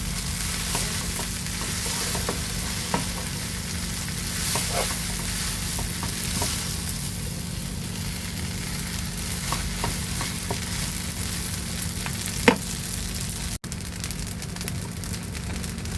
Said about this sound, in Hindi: इनको हल्का सा इनको वेजिटेबल के साथ टॉस कर लेंगे